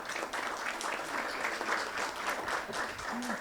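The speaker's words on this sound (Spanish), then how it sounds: "Recibamos con un fuerte aplauso" An audience at a formal university lecture event bursts into sustained applause, steady even clapping that fills the room at moderate distance and carries on without a break for a few seconds.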